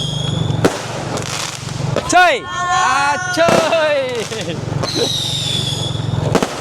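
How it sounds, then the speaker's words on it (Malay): Firecrackers crack and pop loudly during a festive night celebration for Hari Raya eve in Malaysia, with sharp bursts, whistling shrieks rising and falling, and crowd noise, while people call out nearby. "Tak habis lagi mercun ni."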